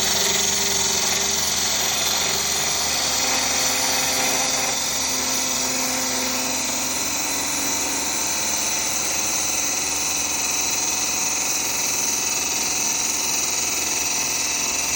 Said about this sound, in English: we're going to take our parting tool and we're going to cut where we want the lid and body to be separated